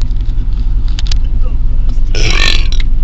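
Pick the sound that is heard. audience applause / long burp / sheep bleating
long burp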